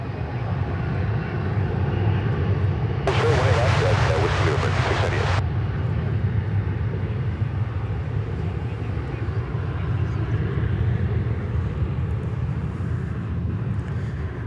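An American Airlines Boeing 787-9 Dreamliner jet airliner at DFW Airport, a steady, heavy engine roar held throughout with a brief louder hiss burst early on, heard from a distance.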